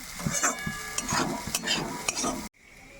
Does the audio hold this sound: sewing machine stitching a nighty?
no